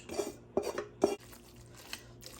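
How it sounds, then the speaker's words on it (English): Spaghetti in homemade Alfredo sauce is tipped into a casserole dish, with a few clattering knocks of cookware and utensils, three sharper clanks near the start, then softer scraping and a faint final tap, close and with no talking. "we're just going to dump this spaghetti with the homemade Alfredo into a dish"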